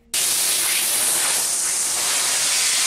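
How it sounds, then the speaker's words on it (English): A can of insect spray releases a sudden, steady, loud hiss that starts abruptly and runs unbroken for almost three seconds, close to the listener. "I sprayed Boeing Stream across it."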